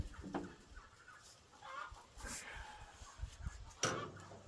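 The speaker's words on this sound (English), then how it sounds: "If y'all hear the hens over there cackling," Laying hens cackle off to the side of a backyard coop, faint intermittent clucks and squawks at a moderate distance, with no one speaking.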